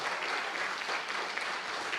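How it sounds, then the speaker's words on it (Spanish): A church congregation applauds the Lord with sustained, even clapping from many hands, heard at a moderate distance and continuing throughout. "Si le vas a dar un aplauso al Señor, que sea con ganas"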